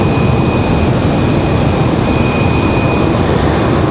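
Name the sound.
Delta Airbus A220 jet airliner departing Raleigh-Durham airport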